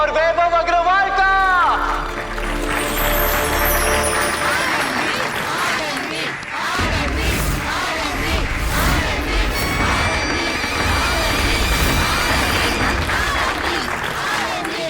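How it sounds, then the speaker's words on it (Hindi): A large studio audience claps loudly and continuously to welcome contestants on a Hindi TV show, the applause mixed with swelling music and crowd noise throughout. "तो जोरदार तालियों से स्वागत करिए आनंदी सिंह और वैभव अग्रवाल का"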